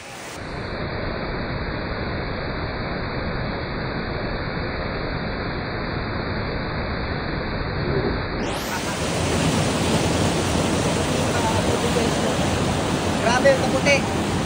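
Kawasan Falls in Badian, Cebu pours with a steady, loud broadband roar of falling water that fills the whole stretch, swelling brighter and fuller partway through with no voices heard.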